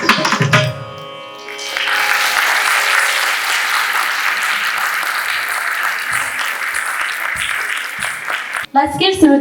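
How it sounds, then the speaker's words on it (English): A large audience gives sustained, dense applause after a Bharatanatyam arangettam dance recital in New Jersey, following a brief musical ending, with a voice speaking at the very end. "Let's give Sumati another huge round of applause"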